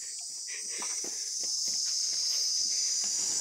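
A cicada buzzes steadily and loudly through the whole stretch, a continuous high drone at dusk in a rural outdoor setting, with faint scattered soft sounds beneath it.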